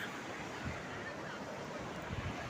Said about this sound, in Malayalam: കടലിങ്ങനെ കയറി വരുന്നു.